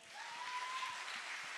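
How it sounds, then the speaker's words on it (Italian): An audience at the Premio Sardegna Live 2018 award evening applauds for Carlo Sanna, a brief soft patter of clapping with a faint sustained tone running through it. "E quindi il primo applauso a Carlo Sanna"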